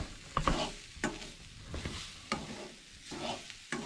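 Sprouted moong curry ingredients are sautéed in a pan for a Goan-style dish, giving soft stirring scrapes and a light sizzle in uneven strokes over about four seconds, close and fairly quiet, with no talking.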